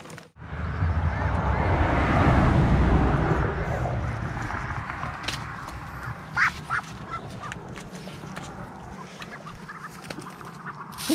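Farm ducks (itik) at a rural nesting area in the Philippine countryside, quacking and calling in a dense, loud burst at first that settles into scattered nearby quacks and rustling.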